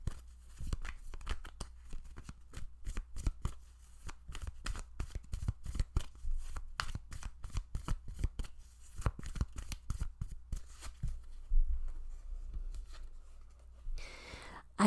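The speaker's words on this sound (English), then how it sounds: "Let's get some more cards." A deck of oracle cards is shuffled close up in a quiet room, with soft rapid riffling and papery flicks in an irregular rhythm throughout.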